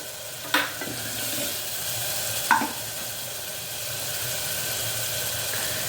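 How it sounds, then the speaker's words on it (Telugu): Ginger garlic paste fries in a pan with a steady, broad hiss that runs throughout, broken by two brief scrape-like clatters early and midway. Curry with dried shrimp is being cooked. "కొంచెం పచ్చి వాసన పోయే వరకు అల్లం వెల్లిపాయ కొంచెం సేపు ఫ్రై చేయాలి."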